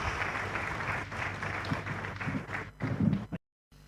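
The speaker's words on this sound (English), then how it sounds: "please, a round of applause for my guest" Applause for a guest at a televised business event, a full crowd clapping with a low rumbling room tone underneath, swelling slightly before stopping abruptly into silence.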